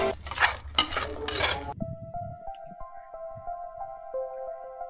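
Cumin powder and garam masala are stirred into a mutter paneer curry in a pan: three or four close, rough scraping strokes, then quiet as gentle tonal music takes over.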